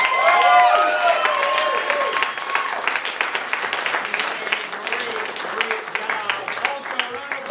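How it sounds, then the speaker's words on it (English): A comedy improv show audience applauding the venue staff, a sustained burst of clapping and crowd noise that gradually eases while a voice talks over it. "a big round of applause for the Arcade House staff, everybody."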